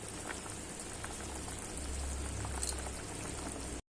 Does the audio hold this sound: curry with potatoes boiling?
yes